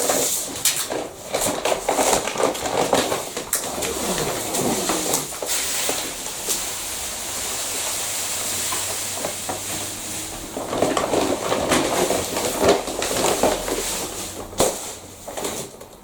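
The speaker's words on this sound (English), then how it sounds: "So Andy, you're just decanting the chippings Into one of our buckets." Slate granule chippings poured into a bucket, a continuous gritty rustling pour that swells in two longer bursts, close and fairly loud, with no talk.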